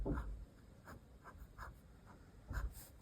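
A Lamy Studio fountain pen with a medium nib scratches softly across paper in short, close, faint strokes separated by brief pauses.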